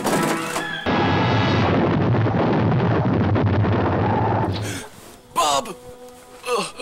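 A torpedo explosion sound effect erupts into a loud, roaring burst that rumbles for several seconds before fading, followed by excited voices.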